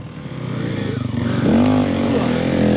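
A motorcycle engine runs in first gear on a winter ride, a loud, close, steady drone whose pitch climbs as it revs, with faint voices underneath.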